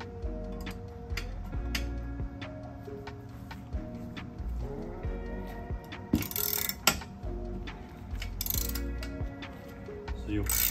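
Ratchet wrench turning a nut under the dash of a Foxbody Mustang during clutch pedal bushing work, heard as faint repeated clicking bursts, with brief louder rattles of tools near the middle and end.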